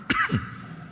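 A man with a bad cough, a single sharp cough followed by a lower rasping second burst, close and fairly loud during a religious study session.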